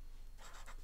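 A pen scratching out a math equation on a writing surface in short strokes, faint and close, with a few quick bursts of scribbling and no talk.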